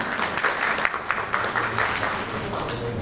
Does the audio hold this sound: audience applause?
yes